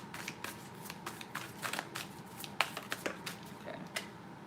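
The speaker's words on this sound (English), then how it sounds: "I'm gonna keep shuffling." Tarot cards being shuffled close by, a run of quick papery riffles and flicks with brief pauses, no voices.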